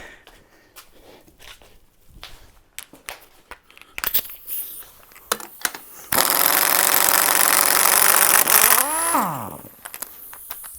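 A few clicks and clatters, then a pneumatic air impact gun whirs loudly and steadily for about three seconds before winding down, close by, while taking apart a GM L83 V8 engine.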